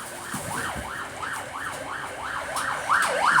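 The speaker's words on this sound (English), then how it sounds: "so there's an ambulance in the background." A wailing ambulance siren sweeps steadily up and down in a repeating cycle, moderately distant, with faint background traffic noise.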